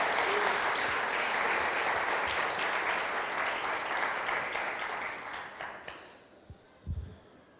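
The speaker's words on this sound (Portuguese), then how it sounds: "Você pode aplaudir a palavra do Senhor" A church congregation gives loud, sustained applause for a reading from the Book of Nehemiah. The dense clapping holds for several seconds, then tapers and fades, with a few scattered claps at the end.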